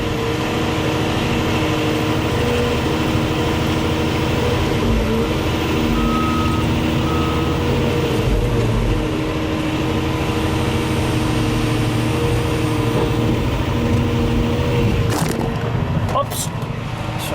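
A 2015 CAT 349E excavator engine running steadily at half throttle, a loud continuous drone with beeping nearby and brief clatter near the end.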